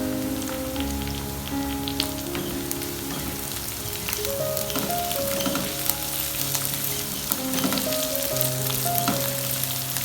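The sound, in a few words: green chillies frying with onion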